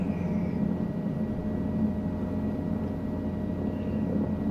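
A Cabri G2 helicopter taking off in Microsoft Flight Simulator near Sherbrooke hums with a steady, droning engine and rotor tone that holds even and fairly loud throughout, alone without speech.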